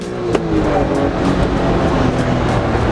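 A tiny 656cc three-cylinder car engine revving and pulling hard, a steady buzzing drone that holds close and loud throughout.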